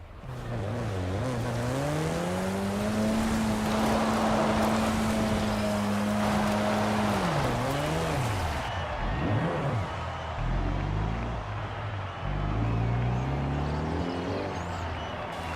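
A 3-liter V6 engine in an XE-S car in Forza Horizon 5 drones loud and steady, its pitch climbing and holding before dipping and wavering, then rumbling on lower and rougher toward the end.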